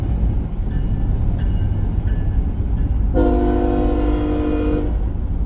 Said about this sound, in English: Chasing a lone CSX locomotive.